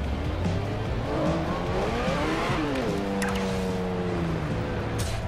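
A racing car engine in the video game Forza Horizon revs and shifts through rising and falling tones while tires squeal, loud and continuous, with no talking.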